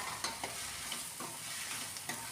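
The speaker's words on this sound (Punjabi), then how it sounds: "ਇਹਨੂੰ ਜੇ ਆਪਾਂ ਹਿਲਾਉਂਦੇ ਰਾਵਾਂਗੇ ਤੇ ਜਦੋਂ ਇਹ ਭੁੱਜ ਜਾਣਗੇ" Onions and green chillies frying in a pan for a milk and onion bhurji, a quiet steady sizzle with repeated scraping clicks of a spatula stirring every half second or so, without speech.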